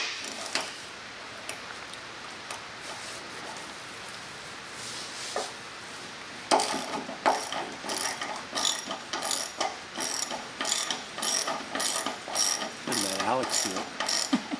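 A hand ratchet works 13 mm bolts loose from AutoGyro rotor blades, with sparse clicks at first and then a dense run of rapid, close ratcheting clicks in repeated bursts.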